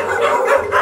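Dogs at a stray dog shelter give quick, close yips and barks that overlap and run together in under a second.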